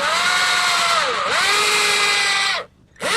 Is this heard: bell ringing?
no